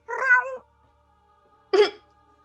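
A small cat wearing a bright red collar meows twice, a drawn-out call followed after a pause by a short, sharper one, both fairly close and clear against a quiet background.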